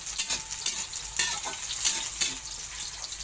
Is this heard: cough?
no